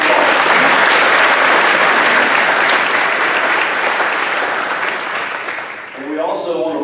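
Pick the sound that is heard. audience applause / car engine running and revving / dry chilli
audience applause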